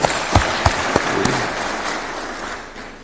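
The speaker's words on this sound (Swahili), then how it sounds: "Tuwapigie makofi hao." Applause for Kenyan athletes from a gathered crowd, a broad wash of clapping with a few sharp individual claps early on, steady then slowly tapering.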